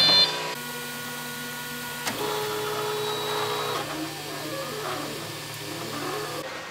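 A 3D printer works steadily with a whirring, tonal stepper-motor hum whose pitch shifts at several points, close and alone, with no talk.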